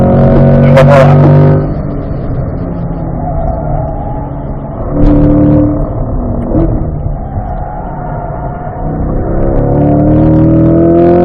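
Race car engine on a lap of a circuit, revving loudly at the start, easing off as the driver lifts the throttle and slows, then brief rises and shifts before the engine note climbs again under acceleration.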